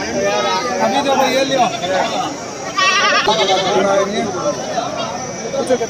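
Goats bleat repeatedly with wavering cries over a steady backdrop of crowd chatter and nearby voices at a sheep and goat market in Bangalore before Bakrid.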